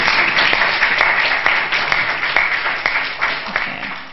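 A church congregation breaks into sustained applause for a guest speaker, a dense, even wash of many hands clapping throughout, close and loud with no talk over it.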